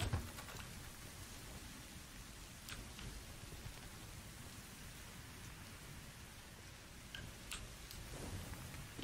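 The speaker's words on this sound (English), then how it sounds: "Oh, there's some rain." Steady soft rain in the Destiny 2 video game patters throughout, with a few scattered ticking drops standing out over the quiet hiss.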